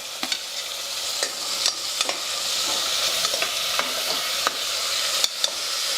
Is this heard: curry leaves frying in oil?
yes